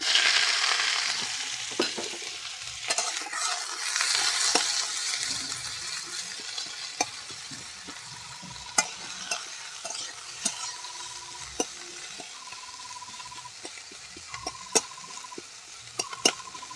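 Chopped onions fry in hot oil with cumin, sizzling loudly at first and then settling, as a spatula scrapes and taps the pan in scattered strokes with no voices.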